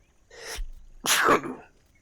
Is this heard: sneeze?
yes